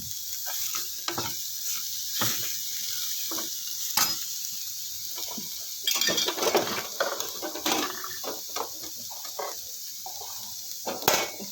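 Sliced onions and green chillies fry lightly in a pan, a moderate sizzle broken by frequent scraping and clinking of a spoon against the metal as they are stirred.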